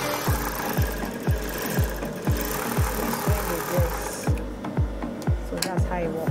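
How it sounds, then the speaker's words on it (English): Electric sewing machine stitching a fabric dress after zigzag finishing, a steady run of rhythmic mechanical thumps about every half second over a continuous motor whir, close and fairly loud, with no speech over it. "After zigzagging the dress, put it now on the sewing machine. So you can see me sewing the dress."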